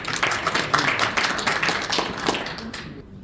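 An audience at a seminar gives a burst of lively clapping that fades out after about three seconds.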